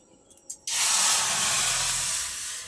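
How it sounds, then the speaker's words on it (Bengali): Water poured into a hot wok bursts into a loud, sudden steaming hiss after a few small clinks, holding steady and then easing slightly, with no talking. "কড়াই এবার জল দিয়ে দেবো।"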